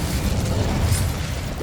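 The Incendio fire spell cast in Hogwarts Legacy gives off a short, steady, roaring whoosh of flame with a heavy low rumble, lasting just over a second with no voices.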